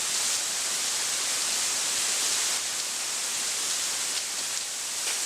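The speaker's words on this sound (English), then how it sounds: "What had once been a tranquil mountain transformed into a raging waterfall" A loud, unbroken roar of a flash flood turning a mountainside into a raging waterfall fills the whole stretch, steady and close, like a torrent pouring down.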